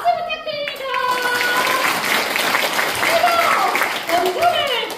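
An audience claps to welcome panel guests at a regional public forum in Daegu, a moderate burst of applause mixed with overlapping voices and bright tonal speech sounds throughout.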